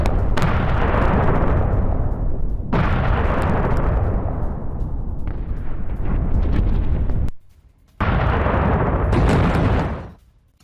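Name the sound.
explosion after Israeli air strike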